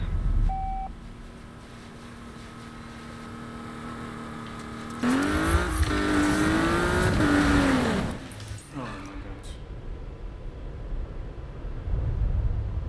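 Race car in Need for Speed 2015 engine hum, then a loud burst of revving with tire squeal while attempting a drift, easing back to a quieter engine drone afterward.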